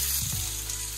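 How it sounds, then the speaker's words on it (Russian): Food sizzles and fries steadily in a pan, a close, loud hiss with a brief clatter near the start and no talking. "Выкладываем их сразу на сковородку."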